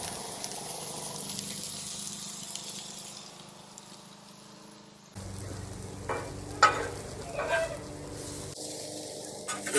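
Steak sizzles on a Blackstone griddle with a soft, steady hiss, then a louder fresh sizzle bursts out as another steak is laid on, followed by a few light clinks and scrapes.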